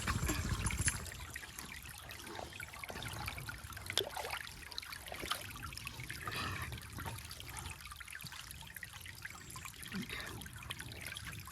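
Stream water trickles steadily into a water bottle being filled outdoors, a continuous close gurgling flow with no voices.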